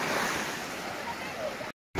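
Surf from a small storm washes onto a beach at Vityazevo, a steady broad roar of breaking waves with wind noise, then a sudden short silent gap near the end before the wash resumes.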